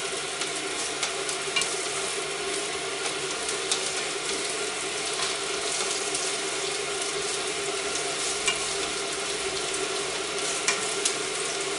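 Shrimp with onion and chili being stirred as it fries in a pan, a steady close sizzle with faint scraping and clinking, no talking.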